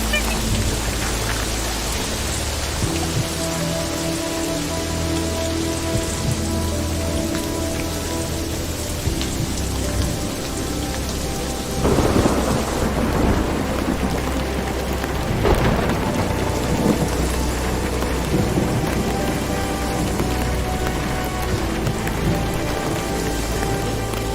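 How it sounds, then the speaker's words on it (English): Steady heavy rain pours throughout with rumbling thunder beneath, swelling into louder rolling peals midway and again later; a constant wash of downpour with no talking. "There is thundering and all. God, I have to reach home fast. Oh, it's raining."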